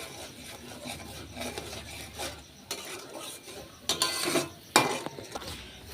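Bengali spice paste for a paneer dish being stirred and scraped in a pan with a spatula, producing a steady close rasping and rubbing with a soft sizzle, growing louder in a few sharper scrapes toward the end.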